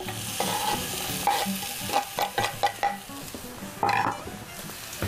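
Sliced onion half-rings sizzle in a frying pan, a steady soft hiss broken by repeated scraping stirs and light clinks of a utensil against the pan, close and fairly quiet.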